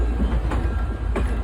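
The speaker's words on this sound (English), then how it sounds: "We are going to see the Plymouth switcher one more time" A Plymouth switcher locomotive rolls along the rails with a low rumble and a couple of soft rhythmic wheel clunks as it passes over rail joints, heard up close without talk.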